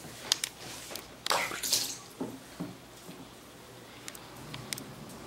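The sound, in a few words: water splashing in a baby's first bath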